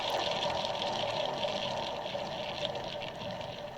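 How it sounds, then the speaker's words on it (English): An art supply Lazy Susan spins in a raw recording, giving a steady, faint, airy whooshing hiss with a slight watery churn that holds evenly for a few seconds. "the Art Supply Lazy Susan spinning"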